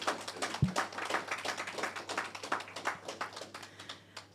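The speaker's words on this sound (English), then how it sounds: "May I have a round of applause?" An audience at a STEM summer camp event gives a round of applause, a fairly soft, even patter of many hands clapping in a larger room, with one louder thump near the start.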